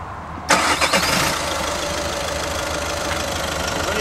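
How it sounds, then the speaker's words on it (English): A manual car sitting in neutral with the clutch pressed cranks briefly and catches, then settles into a steady, close idle with no voices over it. "I'm going to start the vehicle"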